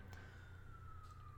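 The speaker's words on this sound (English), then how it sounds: "here we go with a frickin' siren" A police or emergency vehicle siren passes outside, a faint, steady, slowly falling wail heard far off over low background hum.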